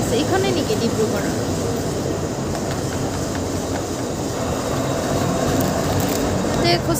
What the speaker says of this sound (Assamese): কিবা এখন ট্ৰেইন আহিছে